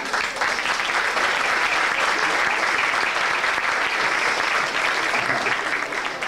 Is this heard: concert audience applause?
yes